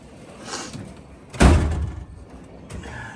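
A drawer in a garage toolbox, a Harbor Freight setup, slides open with a short rolling scrape and ends in a solid thud at full extension, fairly close, with some light rattling before and after.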